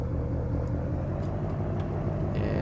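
A GMC truck driving in Farming Simulator 17, a steady low engine rumble that stays even and close throughout, with a few faint clicks on top and no talk.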